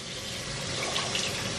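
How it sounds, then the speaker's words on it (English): Cold tap water runs steadily over chocolate-stained fabric in a sink, a continuous close splashing rush with no talk. "I guess now we'll just run it through cold water."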